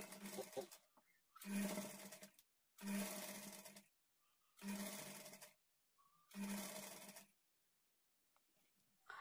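A sewing machine stitches a high-neck blouse sleeve in four or five separate bursts of steady whirring of about a second each, with short silences between them, close and clear.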